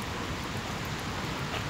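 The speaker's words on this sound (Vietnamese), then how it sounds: "Ôi, mưa lại rồi, thôi đi vô lại." Steady rain falling outdoors at a zoo, a constant close wash of patter and hiss with no break and no voices.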